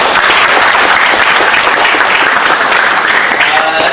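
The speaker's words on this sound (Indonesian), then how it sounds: "Tepuk tangan juga buat kami." Loud, close audience applause at a leadership forum in Bandung, dense continuous clapping at full level, with voices faintly mixed in beneath it.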